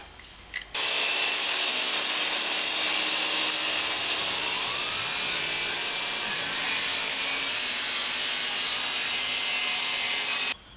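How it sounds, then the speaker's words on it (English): Table saw cutting a wood leg for a folding camp table, a loud continuous whine running steadily for about ten seconds before stopping abruptly, close and alone. "I've installed my feather board onto the table saw, so now I can put on my safety glasses and make that cut"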